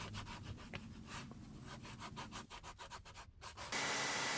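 Repeated back-and-forth sanding strokes rub across a soft touch coated surface, a rapid close scratchy rhythm that ends in a burst of steady hiss.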